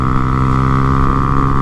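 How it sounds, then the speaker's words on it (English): A new Honda Grom motorcycle engine revs hard and steady, a loud, buzzing, constant drone heard up close with no pauses or speech. "Oh, we're revving her out. We're revving."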